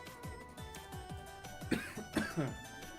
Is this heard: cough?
yes